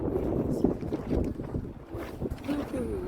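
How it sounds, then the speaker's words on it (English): Gusty wind blowing outdoors at a greenhouse build site, a steady low rumble of buffeting against the microphone with brief faint voice fragments mixed in. "y'all hear that wind?"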